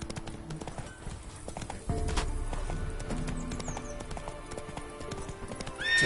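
Hoofbeats of Roach, the horse in The Witcher 3, clatter in a fast galloping rhythm, picking up in force partway through, with in-game music and ambience beneath.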